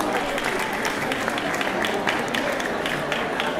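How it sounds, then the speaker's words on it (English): Dense, sustained applause from a crowd at a twins' birthday celebration in Finland, loud and even throughout, with no pauses. "Let's clap for Dr. Braze."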